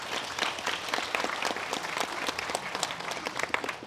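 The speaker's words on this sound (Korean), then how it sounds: "박수로 환영해주시면 고맙겠습니다." Audience applause greeting a former Board of Audit chief at a memorial ceremony for Korea's founding president, held in a memorial hall; dense, steady clapping fills the whole stretch at moderate level, with no talk over it.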